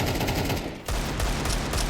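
Rapid, loud gunshots from a Desert Eagle pistol fire in quick succession during a Counter-Strike match, with a brief gap midway before the volley resumes.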